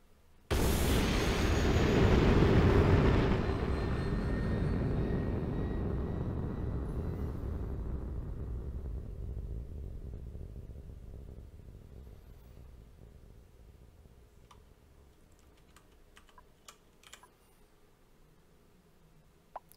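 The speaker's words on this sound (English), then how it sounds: "So rocket should be here any minute" A rocket touches down in the colony game Oxygen Not Included with a sudden loud roaring burst that slowly fades over many seconds, ending in faint scattered clicks.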